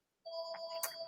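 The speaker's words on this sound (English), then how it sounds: "I've got a phone ringing in the background." An electronic telephone ring sounds in the background of a panel discussion: a steady, fairly faint tonal chime that starts abruptly and holds with a brief brighter blip near the end, with no talk over it.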